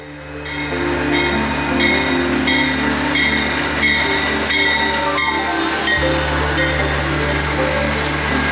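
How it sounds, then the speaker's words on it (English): Amtrak locomotive 176 hauls train 4 into a station, a steady loud rumble of diesel engine and rolling cars with tonal whine and horn-like harmonics, the engine note dropping lower near the end as it slows; no talking. "And eventually, Amtrak 176 would pull train 4 into the station."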